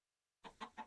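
Minecraft chickens clucking near their chunk-loaded pen: three quick, soft clucks in a row after a brief silence, alone with no talk.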